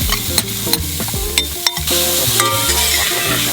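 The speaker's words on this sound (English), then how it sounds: "Throw that meat in on that high heat. Create that sear and keep those juices locked in." Marinated meat searing in a hot pan on high heat for a Sri Lankan breakfast, a loud close sizzle broken by sharp clanks and scrapes of stirring, no voices.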